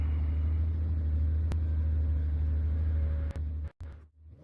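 A GT3 race car in a sim racing game gives off a steady, loud engine drone that cuts off abruptly near the end.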